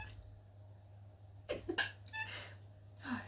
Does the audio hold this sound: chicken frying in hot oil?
no